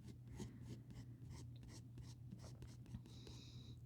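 Pencil scratching across paper in a steady series of soft strokes, close and quiet over a low steady hum, with no talking.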